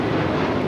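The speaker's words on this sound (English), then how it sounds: "This is Alaska Airlines 1418 taking off to Guadalajara on the 737-800." Alaska Airlines Boeing 737-800 jet roaring steadily on its takeoff run at LAX, a dense, loud, continuous engine rumble with no talk.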